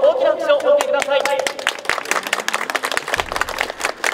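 Audience applause greets the winning jockey of the 67th Tokyo Derby at a racecourse interview, clapping rising after an announcer's voice and continuing under speech.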